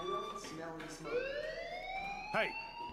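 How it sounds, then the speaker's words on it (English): Fire alarm in the video game Life is Strange, a wailing rising electronic tone that sweeps upward, with a brief warbling burst near the end, loud and close. "Hey, do you hear that fire alarm? That means you should be outside."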